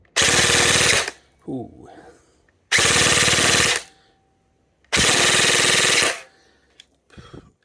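Jing Gong JG109 MC51 compact G3-style airsoft rifle fires three loud full-auto bursts of about a second each, a rapid even buzz of shots, with a brief exclamation and quiet handling noise between bursts.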